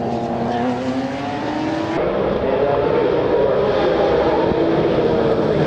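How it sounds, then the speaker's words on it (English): A mixed field of sports sedans, sports cars and WA muscle cars gets underway for a race at CARCO.com.au Raceway, with a loud sustained roar of many engines revving and droning together, rising in pitch as they pull away. "the sports sedans, sports cars and WA muscle cars getting underway for their first race of the day"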